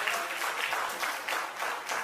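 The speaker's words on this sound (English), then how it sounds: "A big round of applause," A crowd claps for a model on stage at a fashion show, sustained applause with a gently pulsing rhythm, steady and moderately loud, with no talk over it.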